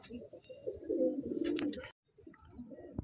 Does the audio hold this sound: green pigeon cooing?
yes